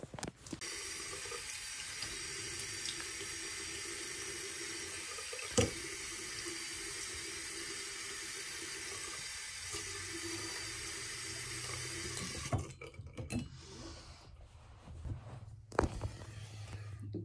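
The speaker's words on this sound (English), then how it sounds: "Let me rinse off my face." A bathroom sink tap runs at a steady, close rush of water while someone rinses their face. The flow cuts off toward the end, leaving a few splashes and drips.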